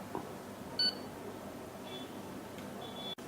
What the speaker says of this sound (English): if you want the beep buzzer on